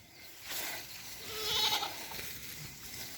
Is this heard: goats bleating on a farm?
yes